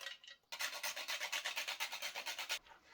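Nutmeg rubbed against a grater for a pumpkin byrek filling, a steady run of about twenty quick rasping strokes, close and fairly loud, with a short pause before it starts.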